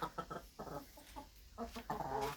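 Chickens cluck softly and continuously close by on a farm on a hot day after eating grain, a busy run of short, murmuring calls.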